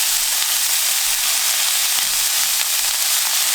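Already-cooked ham sizzling in a pan together with caramelized onions, a steady loud frying hiss with no voices over it.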